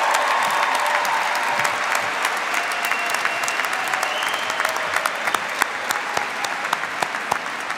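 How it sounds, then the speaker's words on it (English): Sustained applause rings through a hall at a College of Education and Human Development spring graduation ceremony for the graduating class, a dense wash of clapping with crisp individual claps popping out toward the end. "Please give a round of applause to our future changemakers."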